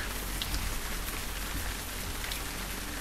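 Rain in the Wolf Quest video game, a dense, steady hiss of raindrops hitting surfaces that fills the whole stretch at an even, fairly loud level, with no talking.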